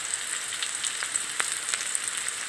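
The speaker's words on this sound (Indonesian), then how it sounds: "Kemudian tumis batang daun sup" Celery stems stir-fried in a hot pan with aromatics for a Maggi noodle dish, giving a steady, fairly quiet sizzle with a few soft scraping stirs, heard alone with no talking.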